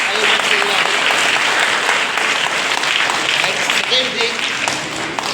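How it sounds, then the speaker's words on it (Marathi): Dense, steady applause fills the hall at a state-level karate competition in Kopar Khairane, Navi Mumbai, continuing loudly throughout with a voice faintly mixed in. "किशोर इथापे सेन्साई जोरदार टाळ्या वाजूया"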